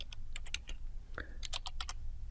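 Quick bursts of keystrokes on a computer keyboard, close and fairly faint over a steady background hum, with no speech.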